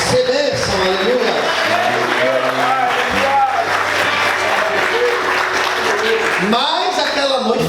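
A church congregation applauds, a dense wash of clapping with scattered cheers filling the room, while voices carry over it.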